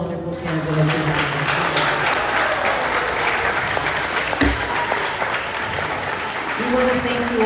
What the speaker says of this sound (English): I encourage you all to final rounds of applause for all of our wonderful candidates.